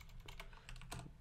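Quick keystrokes on a computer keyboard, a short burst of soft clicking taps, close and fairly quiet.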